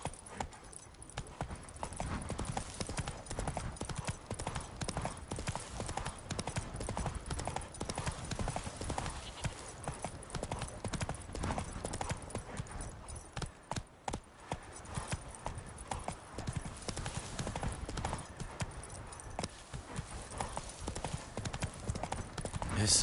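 Roach the horse gallops in The Witcher 3, hooves pounding in a fast, continuous rhythm, loud and close, over game ambience with some voice in the mix.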